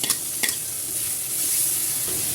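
Onion with a ground paste of garlic and onion frying in a pan for a coconut-milk eel curry, giving a steady close sizzle with a couple of brief scraping stirs and no talk.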